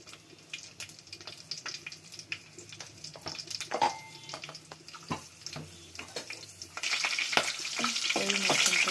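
Green chillies, garam masala and ginger garlic paste fry in a pan for a chicken kurma and khushka, with continuous close sizzling and scraping stirs, and the hiss grows louder and denser toward the end.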